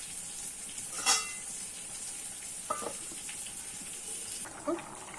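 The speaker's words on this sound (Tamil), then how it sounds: "குழம்பு நல்லா கொதிச்சிடுது." A pot of stingray fish curry simmers with a steady, soft bubbling hiss, broken by a few louder pops and clinks, quiet and close by.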